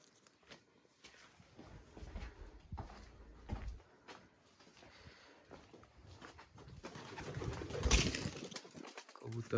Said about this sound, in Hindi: कबूतर उड़ रहे हैं